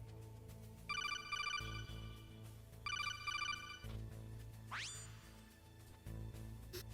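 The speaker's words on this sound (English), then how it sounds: "We might get a phone call now." A Metal Gear Solid codec call rings in the game: two short bursts of rapid electronic trilling, then a rising sweep, over a steady low musical hum.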